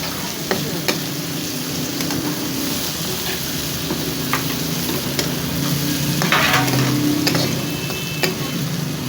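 Peas dry-roasting in a pan, with a steady dry crackling sizzle and intermittent scraping clicks of stirring throughout, close and continuous.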